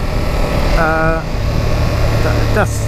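A Triumph Tiger 1200 GT Pro motorcycle engine drones loudly at a steady 5,000 rpm, a constant vibrating hum, while someone talks over it.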